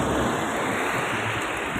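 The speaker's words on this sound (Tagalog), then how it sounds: "malakas ang ulan" Heavy rain pours down in a dense, steady roar, loud and uniform with no breaks or voices.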